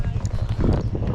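A Tennessee Walking Horse, a gaited breed, moves with rapid rhythmic clip-clopping hooves at close range, and a voice talks over the steps.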